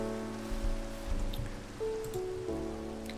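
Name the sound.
rain falling in a video game (Minecraft)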